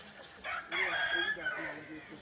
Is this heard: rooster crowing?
yes